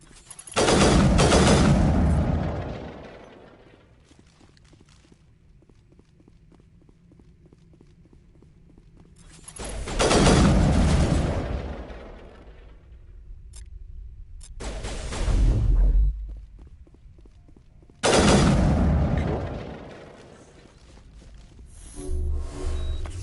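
Gunfire in the video game Mass Effect, three or four loud bursts of rapid shots separated by quieter gaps, close and harsh, with no talk.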